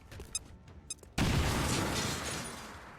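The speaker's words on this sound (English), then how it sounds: "Tossing frag." A frag grenade detonates in XCOM Chimera Squad: after a couple of light clicks, a sudden loud broadband blast hits and rolls into a long rumbling decay lasting a couple of seconds.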